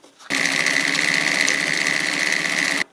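A Singer 319W antique sewing machine stitches a decorative cam pattern, running in one steady, fast mechanical whir for over two seconds before stopping abruptly.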